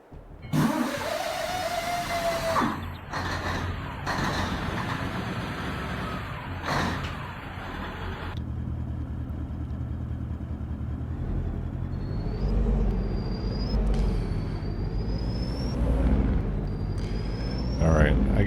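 A truck engine in Farming Simulator 22 cranks and catches, then settles into a loud steady idle with rising revs and whining pitch sweeps, while someone talks throughout.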